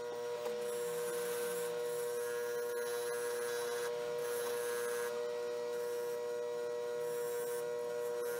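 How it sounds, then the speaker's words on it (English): A fiber wheel polishing the butt end of a vintage Schrade Walden knife handle, giving a steady whirring hum with a continuous rubbing rasp that swells and eases as pressure changes. "polished the butt end up real good with the fiber wheel"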